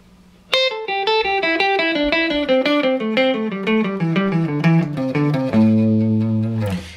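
An overdriven electric guitar plays a quick run of single notes through a pentatonic scale sequence, ending on a sustained chord.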